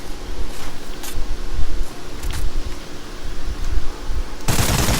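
Rapid bursts of gunfire in the video game Call of Duty: Ghosts rattle on and off over a constant noisy background, ending in a loud hiss.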